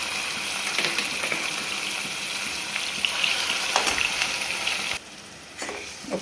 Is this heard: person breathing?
no